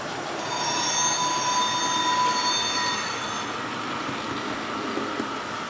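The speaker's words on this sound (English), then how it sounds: "we're heading right on past the steam train again" A small HO-scale model steam train rumbles steadily along its track with faint squealing wheels, a continuous rolling sound that swells and then eases slightly.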